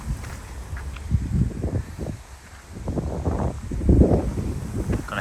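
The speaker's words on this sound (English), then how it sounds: "Stopped raining, slightly windy." Gusty wind after rain has stopped in the town of Mora, Sweden, rising and falling in low rumbling buffets against the microphone with faint rustling, steady and fairly close throughout.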